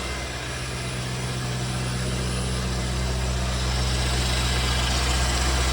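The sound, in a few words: Chevrolet Corvette C5 LS1 V8 engine running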